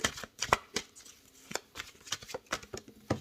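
Playing cards shuffled by hand so a card jumps out, heard as a series of sharp riffling snaps and flicks in an irregular rhythm, close and fairly soft.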